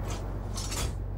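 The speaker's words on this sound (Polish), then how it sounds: "przeładowanie." A tank gun reloading in the video game Armored Warfare: a few short metallic clicks and clanks, close and fairly quiet, over a steady low engine hum.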